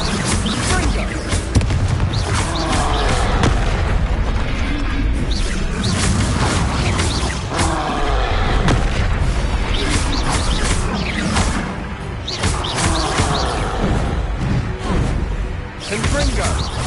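Fire-blast spell explosions from the video game Hogwarts Legacy pile up in a loud, dense, continuous barrage of crashes and booms, with a voice shouting over the combat.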